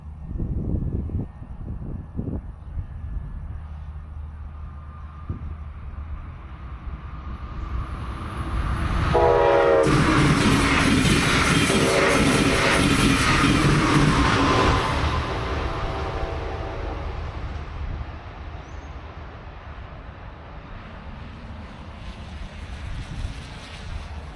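Southbound Brightline passenger train at a Brevard County, Florida grade crossing: a rumble builds from a distance, then a loud horn blast and roaring pass dominate for several seconds before the noise fades away.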